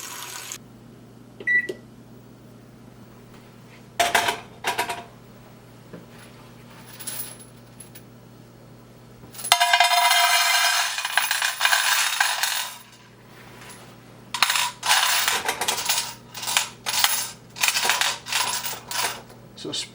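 Brass .223 cartridge cases clinking and rattling as they are spread in a Pyrex glass baking dish, with several close bursts of metallic jingling separated by quieter pauses and a steady background hum.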